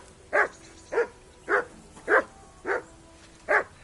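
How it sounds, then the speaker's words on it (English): Dog barking in the medieval video game Kingdom Come Deliverance 2, six sharp evenly spaced barks about half a second apart, fairly close, with no talking. "call off that dog and then we can talk"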